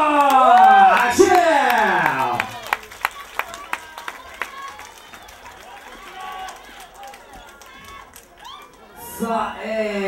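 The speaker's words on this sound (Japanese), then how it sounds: "拍手" Audience applause at a 2007 lock dance battle in Tokyo, steady clapping from a crowd that swells and fades over several seconds, with a loud announcer-style voice talking over the start.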